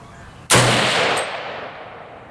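A single M1A rifle shot firing Remington Core-Lokt .308 150 gr soft-point ammunition outdoors, with a sharp loud crack followed by a long rolling echo that fades over about two seconds.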